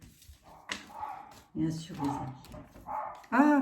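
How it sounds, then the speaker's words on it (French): A dog gives a few short barks and yips, the clearest and loudest near the end, interleaved with someone speaking French. "mais c'est mon chien, dites donc."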